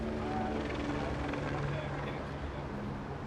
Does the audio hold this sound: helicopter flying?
yes